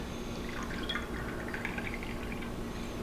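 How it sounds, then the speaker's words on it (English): Unoaked Chardonnay trickles from the bottle into a wine glass, a faint, continuous gurgling pour with light splashy drips lasting a few seconds, heard alone and quiet. "let's get a glass poured here"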